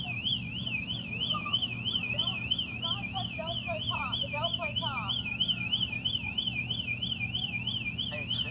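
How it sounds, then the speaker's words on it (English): A store alarm blares during looting, a loud, steady warbling electronic wail that repeats without pause over a low rumble of street noise. "And you hear the alarm going off."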